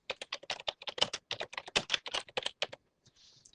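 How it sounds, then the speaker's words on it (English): Quick, crisp keystrokes on a computer keyboard as names are entered for monogram embroidery software, close and clear with an uneven rhythm, ending in a short pause and a faint soft hiss. "from here, I'm going to type in the names."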